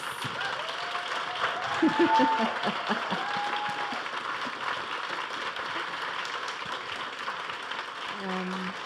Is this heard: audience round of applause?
yes